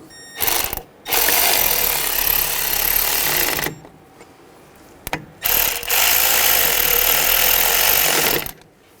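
A power tool drives and tightens the suspension knuckle bolts on a 2003-2008 Subaru Forester rear suspension: loud whirring ratchet bursts, one short then two long runs with brief pauses between.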